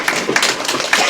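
Audience applause at a village Samaj Ghar foundation day celebration, a short burst of scattered hand claps with uneven rhythm, fairly close.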